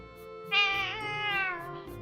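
A house cat gives one drawn-out, clear meow close by, rising then sliding down in pitch, against a quiet indoor background.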